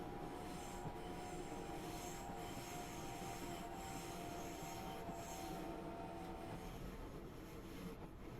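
A Train Simulator train on the Mittenwaldbahn line slows into a station with a steady rumbling roll and drawn-out wheel squeal, the sound easing off near the end.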